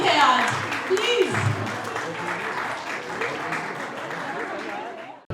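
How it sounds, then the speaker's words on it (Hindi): Sustained applause from an audience at a school Mother's Day celebration, a steady dense wash of clapping running throughout at moderate loudness with some voices mixed in, cutting off abruptly at the end. "मोबाइल को रखिए और तालियों के साथ अपने शो को एंजॉय करिए"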